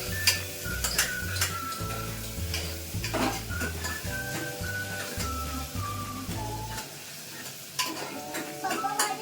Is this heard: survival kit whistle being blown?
no